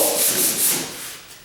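Sanding a door by hand: a rapid, rhythmic back-and-forth rubbing scrape, close and steady for a moment before it eases off.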